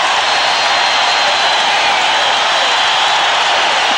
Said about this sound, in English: And the crowd whipped into a frenzy.